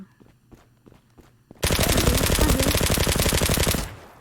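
Long burst of rapid automatic gunfire in the online shooter Zula, loud and close, after a few quieter footsteps.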